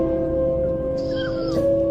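A kitten meows and cries in a thin, high, wavering call that rises and bends near the middle of the clip, close by, over a steady tonal hum and low background noise.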